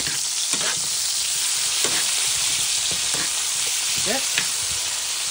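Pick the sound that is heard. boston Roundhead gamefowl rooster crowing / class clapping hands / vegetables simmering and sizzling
vegetables simmering and sizzling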